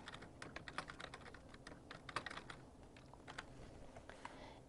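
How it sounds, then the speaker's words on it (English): Rapid typing on a computer keyboard while entering a query in Microsoft Access 2013, with brisk, irregular key clicks that sit close and fairly quiet throughout. "So we're going to type this in,"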